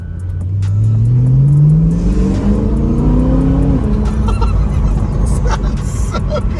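A stock BMW E92 M3 with an Active Autoworks axleback exhaust revs up loudly and close, the engine pitch climbing smoothly for a couple of seconds before settling into a steady, burbling idle.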